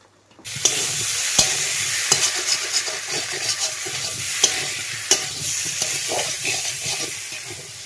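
Potato curry with salt and turmeric fries loudly in a pan, a close sizzling hiss starting abruptly and running steadily, punctuated by sharp clinks of a spatula stirring.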